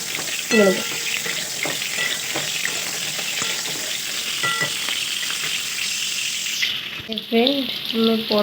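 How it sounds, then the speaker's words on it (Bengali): Pointed gourd (potol) pieces frying in mustard oil give a steady, close, bubbling sizzle with occasional stirring clinks, and a voice sounds briefly near the start and end. "ফ্রেন্ড আমার পটল ভাজা কমপ্লিট"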